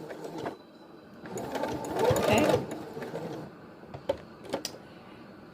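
A sewing machine stitches back and forth across a fabric face mask, its motor chattering in short bursts that swell to a louder run midway and then stop and start. The sound is close and fairly quiet.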